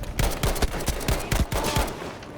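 Gewehr 43 semi-automatic rifle fire in the video game Battlefield V: about ten sharp, close shots in quick succession with brief uneven gaps, amid the booming crackle of other gunfire.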